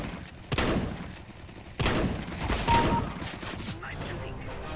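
Gunfire in a video game, several sharp bursts of shots and impacts scattered across a few seconds, mixed with mechanical clatter and thuds, with voices talking over the action.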